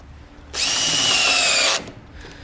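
Power drill driving a screw into trailer wall framing: a single steady high-pitched whir of about a second and a quarter, loud and close, starting and stopping abruptly, with no talk.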